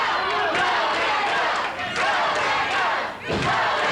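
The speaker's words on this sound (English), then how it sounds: "Everybody in Championship Wrestling studio here is cheering for the King." A wrestling studio crowd at Championship Wrestling cheers loudly and continuously for the King, a dense close roar of shouts and whoops that dips briefly twice before surging again.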